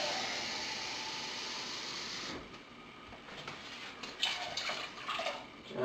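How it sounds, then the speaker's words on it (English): Water pours steadily into a cooking pot of chili for about two seconds, then stops, followed by quieter sloshing and a few light clinks. "And then I also put half a can of water in there as well."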